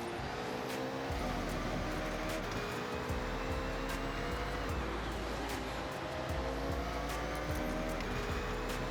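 Lamborghini Temerario racing in Forza Horizon 6, a steady loud engine drone with shifting pitch sweeping through gears, faint tire squeal in corners, continuous throughout with no talking.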